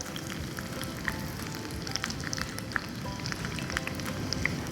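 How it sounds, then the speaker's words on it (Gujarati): Yogurt kebabs deep-frying in very hot oil, a steady close crackling sizzle with scattered sharp pops and spits, no voices. "આપણા બધા જ કબાબ કોટ પણ થઈ ગયા છે, તો આપણે એને ફ્રાય કરી લઈએ"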